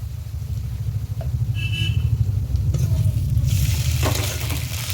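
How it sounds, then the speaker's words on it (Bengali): Ginger paste sizzles in a pan as it is stirred for a chicken and potato curry, a steady broadband hiss with a low rumble underneath, occasional scraping and a brighter burst of sizzle near the end. "আর এর সঙ্গে আমি দেব আদাটাকে ভালো করে আমি আগে নেড়ে নেব।"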